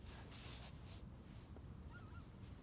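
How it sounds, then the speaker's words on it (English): Geese in a flock honk faintly in the distance over a Westerschelde waterfront in the Netherlands, a few scattered calls under steady wind and ambient noise. "Got a flock of birds heading out as well for summer."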